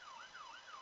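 A wailing emergency siren from the Roblox video game rises and falls in smooth sweeps, sounding steady and fairly clear for a brief moment with no talk over it.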